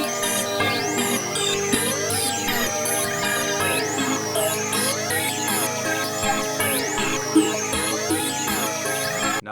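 An FL Studio beat melody detuned half a semitone with elastic pitch, a looping synth line with bending, swooping notes over a sustained low backing, repeating in bars at moderate level without speech.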